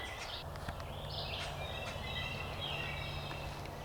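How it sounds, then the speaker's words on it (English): Faint gobbles from several wild turkeys, including a tom, carry from a distance over a steady background hum, with a few higher calls scattered through. "There's actually several turkeys out there."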